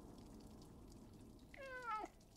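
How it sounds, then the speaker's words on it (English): Cat meowing in the video game Stray, a single short, rising-and-falling meow near the end over a quiet background hum. "We can meow."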